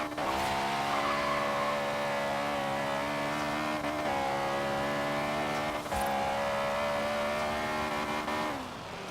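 A front-wheel-drive car in Forza Horizon 3 spins its wheels off the line, engine revving hard through several gear changes over continuous tire squeal, loud and close.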